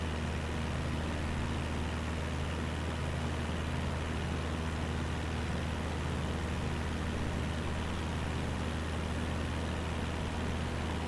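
Aircraft engines in a flight simulator game during a community flight along Route 66 give a steady, unbroken low drone that holds at an even level for the whole stretch, with no talk over it.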